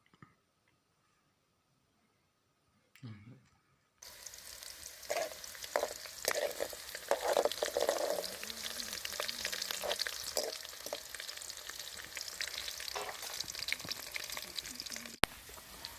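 Green chillies crackle and sizzle in hot oil for a spicy nutmeg pickle, a close, moderate frying hiss with small pops and stirring scrapes that starts after a brief quiet knock and runs on steadily.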